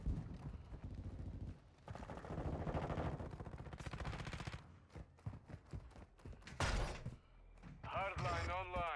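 Bursts of Call of Duty gunfire, loud and close, punctuated by sharp transient shots and a reload-like clatter, with someone talking over much of it.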